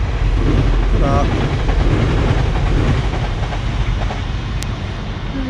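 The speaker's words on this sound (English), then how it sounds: "There's a train going past." A train rumbles past nearby a canal in Huddersfield, UK, a loud continuous low roar with faint rhythmic clatter, while a person talks over it.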